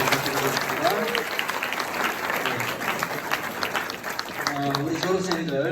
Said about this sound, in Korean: 크게 박수로 부탁드리겠습니다.